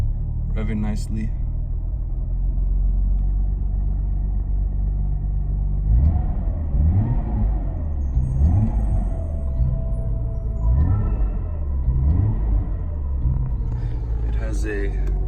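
A 1995 Nissan Skyline R33 GTR idles with a deep steady rumble, then its engine is blipped in a series of quick, sharp revs that rise and fall close by before dropping back to idle.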